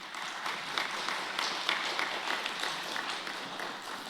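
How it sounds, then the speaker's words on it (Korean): A congregation at a church leaders' retreat gives a round of applause, a soft, somewhat distant patter of many hands clapping with small swells, continuing evenly for about four seconds without speech. "여하튼 동부권역 식구들도 박수 한번 드리겠습니다"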